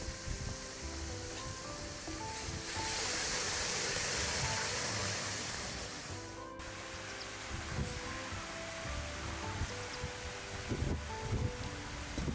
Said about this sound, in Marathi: इथे छान असं पाणी पडतं